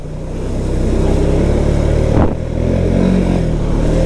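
Can-Am Outlander 700 XT ATV, a 2023 model, engine droning loud and close while riding, a steady rumble with a brief dip and surge midway.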